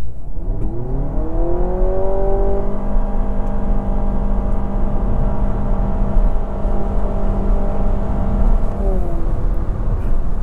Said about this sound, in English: Now, I'm going to try a quick acceleration.